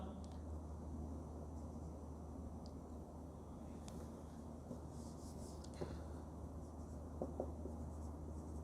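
Chalk or marker scratches faintly on a classroom board as a physics equation is written out, short strokes and taps over a steady low hum with a bit of room noise.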